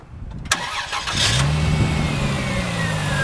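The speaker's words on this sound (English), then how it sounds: "We'll go ahead and fire it up for you." A 2001 Chrysler Prowler engine cranks briefly, catches and settles into a loud, steady running note with a slight rev, heard close up and alone.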